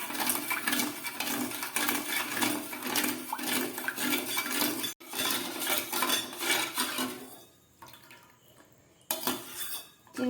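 A spoon scrapes and clinks against a pan as about two cups of sugar and water are stirred continuously to dissolve, making busy metallic rattling that thins out and pauses near the end.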